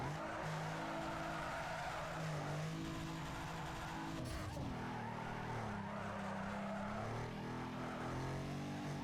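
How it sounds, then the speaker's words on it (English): A car in Need For Speed Underground 2 drifts with long, loud tire squeals over a steady, revving engine drone. The squeals bend in pitch as the slide shifts, with no pauses across the whole stretch. "That was a nice drift."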